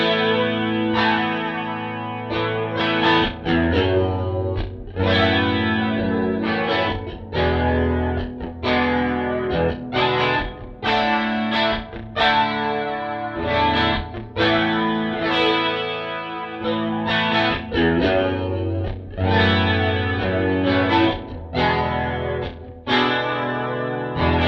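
Electric guitar run through an Eventide H90 effects processor, a steady loud strummed and picked chord pattern thick with chorus, distortion and echo, close and continuous for about twenty-five seconds with no talking.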